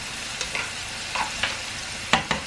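Mushrooms stir-fried in a hot pan: a steady low sizzle with several short scraping stirs, the sharpest pair near the end, close by with no talking.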